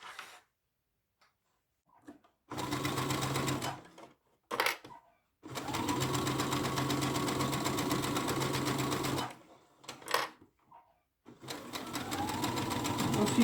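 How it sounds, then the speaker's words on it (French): A sewing machine stitching around the edge of a fabric rabbit bag, several bursts of fast, even mechanical whirring separated by short pauses and a few clicks, close and clear. "Et ensuite, nous allons coudre"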